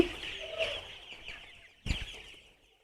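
Chickens cluck inside a coop: a soft clucking call early on, then a louder, sharper squawk burst near the end, with quiet rustling between.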